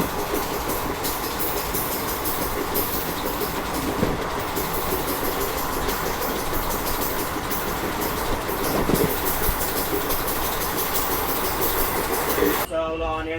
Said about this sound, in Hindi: फ़िलहाल तो अभी हमारी ट्रेन सिटी के अंदर ही चल रही है।